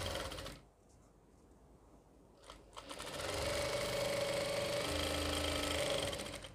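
A sewing machine stitches Afghani salwar fabric, starting after a short pause with a brief burst and then running in a fast, steady mechanical whir for several seconds, close and without talk.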